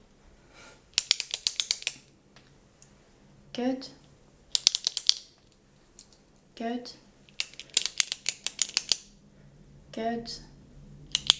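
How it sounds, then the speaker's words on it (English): Pen clicked close up during an ASMR medical checkup hearing test: several bursts of quick, crisp clicks in short runs, separated by gaps where a soft voice briefly speaks. "now tell me how many times you hear it clicking"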